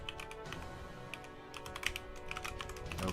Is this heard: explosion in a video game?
no